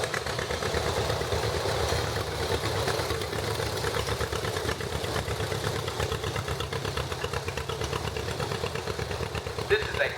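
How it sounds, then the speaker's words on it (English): A John Deere GP-line tractor idles steadily during a street parade, its engine chugging in an even, continuous rhythm at close range alongside crowd background noise. "Here's another John Deere, part of the GP line as well."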